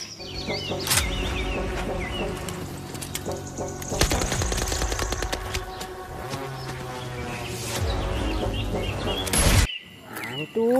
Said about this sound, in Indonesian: Mainan tembak-tembakan.